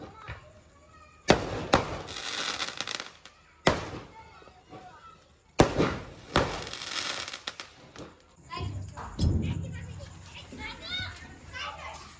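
Sharp Diwali firecracker bangs burst out several times at irregular intervals, loud and close, with children chattering and shouting between the blasts.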